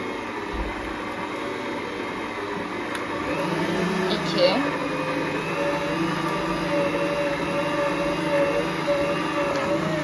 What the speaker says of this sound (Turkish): Un ilavesini yaptıktan sonra yine yavaş yavaş başlatıyoruz unu sıçratmamak için. Birinci kademede çalıştırıyorum.